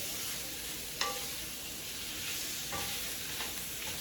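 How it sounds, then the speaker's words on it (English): Browning sausage pieces stirred in a pan, a soft constant sizzle broken by a few sharp utensil scrapes against the pan, close and unaccompanied by speech. "So, I'm just going to keep stirring them as they go."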